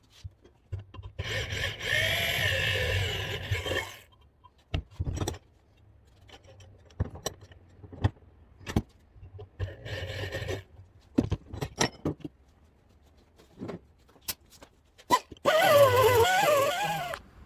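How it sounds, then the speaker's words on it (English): A hacksaw and file work a metal part on a Rugg carpet cut mower, with two sustained bursts of rasping strokes separated by scattered clicks and taps, close and fairly loud with no talking. "I'll probably take the hacksaw and cut most of this off, and then file it to shape."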